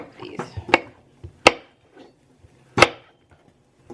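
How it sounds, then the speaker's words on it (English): A knife chops cucumber on a cutting board in a home kitchen, with a few sharp, irregular knocks spaced apart over quiet background. "And then chop these."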